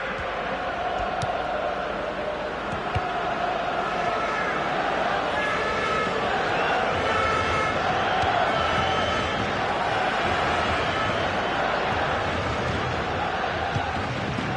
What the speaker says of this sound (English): Great passing, and the crowd really enjoying it.